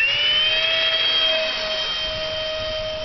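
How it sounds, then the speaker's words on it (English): An FMS Fox glider with a Habu electric ducted fan, motor and speed controller whines at a loud, steady high pitch as it launches, its tone sliding slightly lower over a few seconds, close by. "Fox glider from FMS with a habu fan and motor and speed controller."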